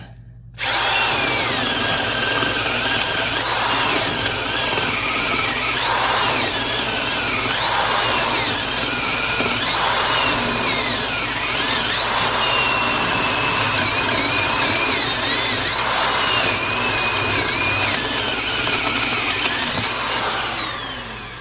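A Porter-Cable 2621 3/8-inch carpenter's drill with a slightly dull 30mm spade bit bores steadily and loudly, a continuous motor whine with varying load, running about twenty seconds up close.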